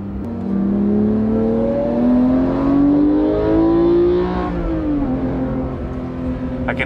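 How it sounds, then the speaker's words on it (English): A Porsche 991.2 GT3 with a 4-liter engine and manual gearbox pulls hard, its rising, refined wail climbing steadily before easing off near the end, heard from inside the car. "this 4-liter definitely has a different note"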